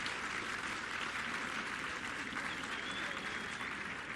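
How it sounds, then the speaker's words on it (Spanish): Sustained applause from a crowd at a school inauguration in Jalisco, a dense, steady wash of clapping hands that holds at an even level throughout with no talk over it. "hay que aplaudirle fuerte"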